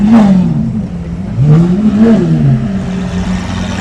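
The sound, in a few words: Lamborghini Aventador engine revving on arrival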